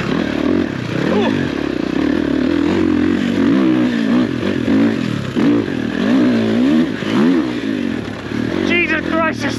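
A motocross bike ridden hard on an enduro trail screams through repeated high-revving accelerations, its engine pitch sweeping up and down loudly and close throughout, with a rider's voice exclaiming over the roar.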